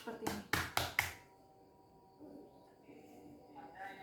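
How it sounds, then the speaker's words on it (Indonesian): Four quick cupped-hand claps strike the body during a massage, hollow and close in a fast run, then quiet with faint room noise and a voice. "Yang keempat ada clapping, cekungan tepuk tangan seperti ini."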